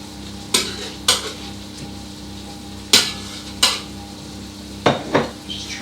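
A spoon scrapes and clinks in a pan as tropical chicken in sauce is dished into a bowl, several separate sharp scoops spaced apart over a low background sizzle.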